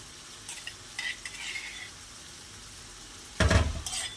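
Ginger and garlic go into a pan, giving a faint, quiet sizzle with a few scraping stirs, then a sharper louder burst of frying near the end.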